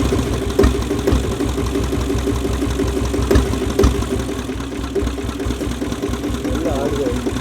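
A TDX 3009 7.5 HP single-cylinder diesel engine runs at slow speed with a steady low thumping idle. The sound is loud and continuous, with a few sharper knocks.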